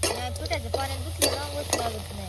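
Washed Bombay duck fish hit a hot pan (kadai), giving a sizzling hiss with stirring and a few sharp utensil clatters, close and fairly loud.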